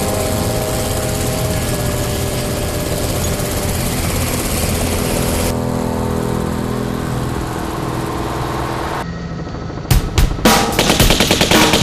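A helicopter drones loudly and steadily overhead through a TV drama scene, then rapid bursts of machine-gun fire crackle in close, dense rattling volleys near the end.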